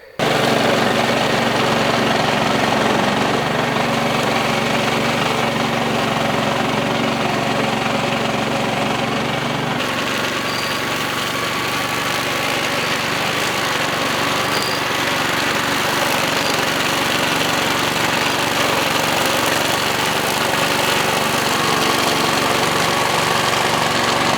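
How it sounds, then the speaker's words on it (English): A DR brush hog mower runs while cutting grass outdoors. Its loud, steady engine drone continues without a break, shifting slightly in tone partway through. "We're about to mow the front of the crack shack."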